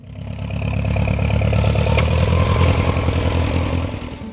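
An Oliver 550 small farm tractor engine runs steadily nearby, a loud, even mechanical chugging and clatter with no voices.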